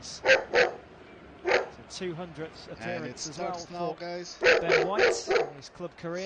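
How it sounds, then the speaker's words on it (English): A dog in a home gives loud, sharp barks in short clusters. Someone commentates on a football match over and between the barks. "Sorry about my dog. It's now barking."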